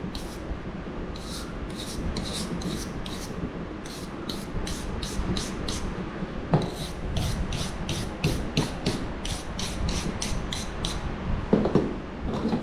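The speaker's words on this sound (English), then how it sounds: "the finer the file, the more like sandpaper, if you will, that it'll act, right?" Steady back-and-forth rasping of a fine file on a wooden wand being carved, about two strokes per second, close and fairly quiet, with no talking.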